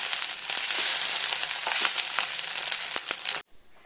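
Leftover rice frying in a pan with potato and pointed gourd in a home kitchen, a steady close sizzle broken by scraping stirs, cutting off abruptly near the end.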